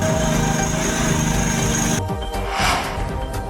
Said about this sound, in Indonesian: Air banjir disedot dengan mesin pompa dan dibuang ke sungai.